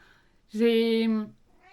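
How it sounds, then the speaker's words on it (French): A single loud, drawn-out cat meow, about three-quarters of a second long, rising clearly above a quiet background. "elle miaule très très fort"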